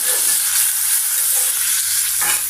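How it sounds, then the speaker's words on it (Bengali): A paste of ground cumin, ginger and garlic frying in a pan, giving a loud, steady, close sizzle that holds throughout with a slight shift near the end and no talk. "মশলাটা কষিয়ে নিই"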